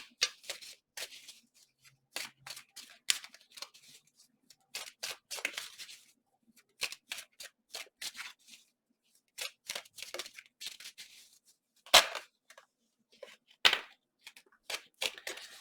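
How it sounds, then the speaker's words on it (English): Tarot cards are drawn and handled from a deck, giving a series of crisp, close slapping and flicking sounds in irregular bursts with short quiet gaps between them. "let me go ahead and draw some cards here."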